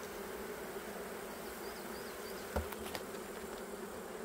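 Honey bees buzz steadily throughout a beehive inspection, a dense, continuous insect drone close by, with a few soft clicks and knocks of the hive being worked partway through.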